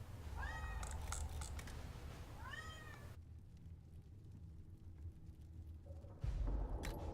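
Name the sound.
cat meowing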